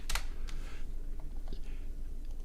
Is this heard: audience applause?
no